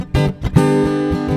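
Steady rhythmic strumming of an acoustic guitar playing a clave groove, with quick alternating down and up strokes repeating chords in an even groove.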